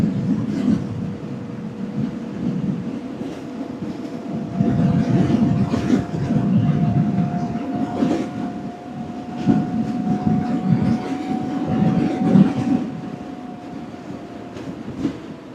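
Steady wind roar rushing past an OLA Roadster X electric motorcycle held near 90 km/h while crossing a bridge, a broad, continuous buffeting rumble with a faint whine riding on top, loud and close throughout.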